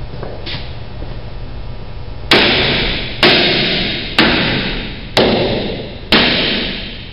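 Five heavy metallic hammer blows on a rusted brake rotor land about a second apart, each ringing briefly over a steady background hum.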